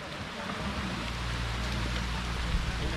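Heavy rain pours steadily along a forest trail at Pamulaklakin, heard as a dense, continuous hiss with a low rumble underneath and no break across the span.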